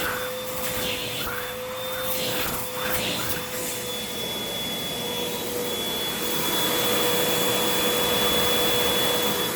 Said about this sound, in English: So now we can vacuum the cushions.